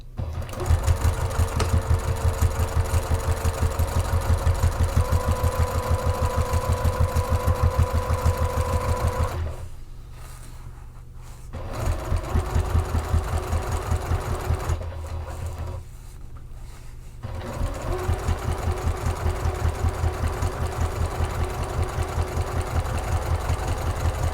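A sewing machine runs one row of stitching across flannel on a bag exterior, with a steady, rapid, close whirring that breaks off twice for short pauses before resuming at full pace.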